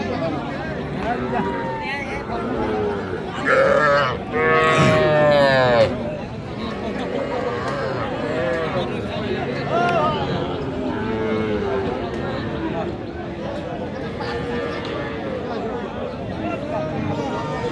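Cattle and young bulls at a Bangladeshi cattle market, with repeated loud close moos over a busy background of crowd chatter and people talking.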